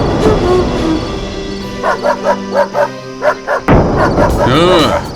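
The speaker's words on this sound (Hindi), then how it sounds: "कालू के भौंकने की आवाज से जैसे ही नींद खुली, मैं समझ गया कि तुम ही आए होंगे।" A dog barks repeatedly in a quick rhythm, loud and close, with some yipping and whimpering mixed in.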